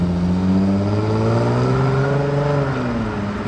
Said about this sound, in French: Le V6.